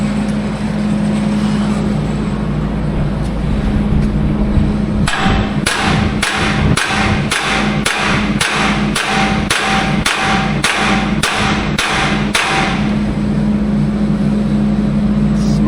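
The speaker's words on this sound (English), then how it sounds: "Just tap it in. Where's my hammer?" A hammer taps a piece into place, about a dozen evenly spaced sharp knocks in a steady rhythm, close by over a constant low engine-like hum.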